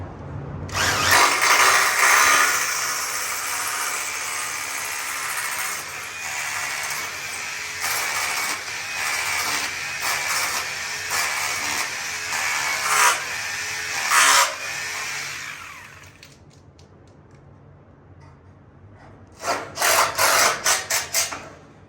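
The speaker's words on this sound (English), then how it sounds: "When you're hammer drilling, you're gonna keep coming in and out to pull the dust out of the hole" A hammer drill bores holes for a steel doorframe installation, loud gritty bursts that start and stop repeatedly, followed by a quiet pause and a final cluster of short, sharp pulses.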